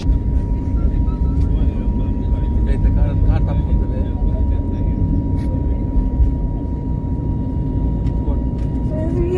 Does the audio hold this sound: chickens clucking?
no